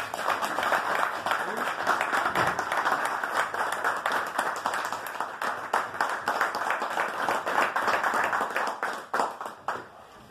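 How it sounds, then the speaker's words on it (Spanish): Audience applause at a basketball association tribute ceremony in Cañada, a dense, steady patter of many hands clapping for about ten seconds, with some voices and scattered louder claps near the end. "Y creo que se merece un gran aplauso."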